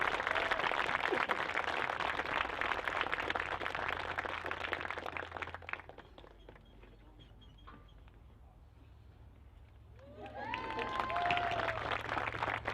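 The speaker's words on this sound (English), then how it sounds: "Please join me in a round of applause" Audience applause at a 2021 high school graduation ceremony for Creative Technologies Academy: dense, steady clapping from a large crowd that fades to near quiet midway, then swells back up with a few voices rising over it.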